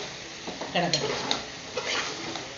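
Chicken cooking in a pan as it is stirred: close scraping and clinking of a spoon against the pan over a low sizzle, in short bursts.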